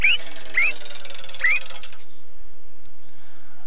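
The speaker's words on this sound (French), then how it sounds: "Perroquet." A cartoon parrot in the adventure game Woodruff and the Schnibble of Azimuth lets out three quick, shrill rising squawks over a steady game background, then the sound drops to near silence.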